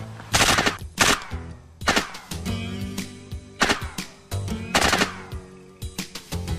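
Machine guns firing in loud, rapid bursts, several volleys separated by short pauses, sounding close and sharp with no talking.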